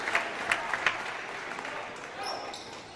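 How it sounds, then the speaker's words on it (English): Spectators in a high school basketball gym on senior night clap for a departing senior. The applause is fairly faint and distant, with a few sharper claps standing out over the crowd murmur. "He gets a round of applause as well."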